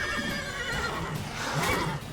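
Horses neigh and whinny in The Witcher 3 during combat at Kaer Morhen, a couple of close, strained calls over game ambience with faint hoof clatter.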